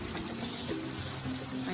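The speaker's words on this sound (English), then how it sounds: "I try to cool it down with the running water to bring it down the temperature" Running tap water pours steadily over cooked macaroni in a sink, a continuous close wash of splashing with faint tonal hums underneath.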